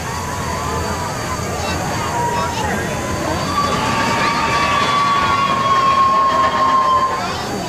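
Disney's runaway mine train ride at Walt Disney World rolls along its rails with a steady rumble and a rising metallic squeal, heard beneath a narrator's voice and the murmur of a crowd.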